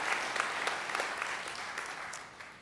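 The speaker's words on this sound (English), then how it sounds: "So give you a round of applause for the orientation leaders" A crowd applauds at a fall matriculation ceremony, recognizing orientation leaders; steady, dense clapping fills the whole stretch without fading, with no voices over it.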